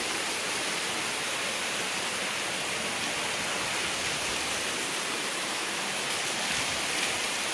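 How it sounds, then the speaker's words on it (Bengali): Heavy monsoon rain pours steadily onto a freshly cast rooftop slab at a house construction site, a dense, unbroken hiss that stays loud and even throughout with no voices. "কখন থেকে বৃষ্টিটা নামছে"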